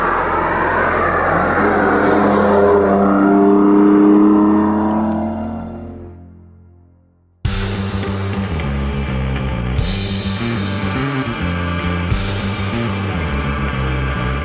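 A BMW M4 with its straight-six engine and M Performance exhaust pulls hard, its tone climbing loudly and then fading briefly at a gear change. A sustained, rougher roar follows, with a couple of sharp pops.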